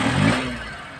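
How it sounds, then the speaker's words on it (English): A multicab's small engine turns over and runs with a rough, broadband clatter, loud at first and easing slightly as it settles into idle. "At first, let's start the engine."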